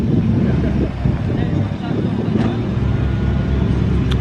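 A Toyota Soarer at a classic car meet idles or rolls by nearby with a steady low engine rumble, broadband and continuous throughout, with faint background noise from the crowd.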